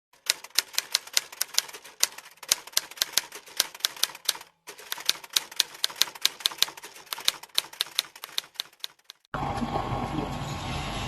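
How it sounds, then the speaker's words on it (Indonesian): A typewriter types out the Indonesian proclamation text of 17 August 1945, giving rapid close keystrokes in irregular bursts with a short pause midway, then ending in a louder steady noise. "Sayuti Melik pun mengetik naskah tersebut dan memberikan hasil ketikan tersebut kepada Soekarno untuk ditandatangani"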